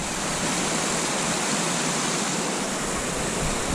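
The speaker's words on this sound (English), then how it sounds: "that is some really healthy creek flow for mid-August" Mountain creek on the Bishop Pass trail toward Treasure Lakes, running high with white water in mid-August; a loud, close, unbroken rushing roar fills the whole stretch with no voices.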